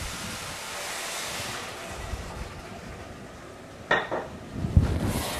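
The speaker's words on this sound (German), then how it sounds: "Und füllen das Ganze mit etwas Gemüsebrühe auf." Vegetable broth poured into a cooking pot, a steady liquid rush followed by a few clinks of metal and pot knocks near the end.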